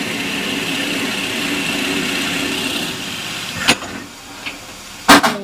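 A wood lathe turns a napkin holder at slowed speed as a recess is drilled into the workpiece from the locked tailstock, a steady whirring hum running throughout with a few sharp clunks near the end.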